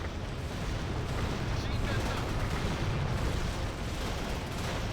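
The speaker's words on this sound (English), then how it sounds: "Heavy fire from 360." Heavy small-arms gunfire in a military shooter video game, a dense, continuous roar of overlapping shots and blasts that stays loud and close throughout.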